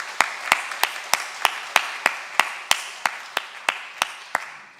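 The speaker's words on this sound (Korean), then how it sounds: "우리 다시 한번 따뜻한 박수로 환영하겠습니다" Church congregation clapping to welcome a member during a Sunday worship service, a steady roomy beat of about fifteen crisp claps at an even rhythm, moderately loud with no talking over it.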